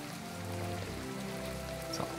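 Soft, steady rain falls in the farming game My Time at Portia, a quiet continuous wash with light droplet texture and faint background tones, no speech.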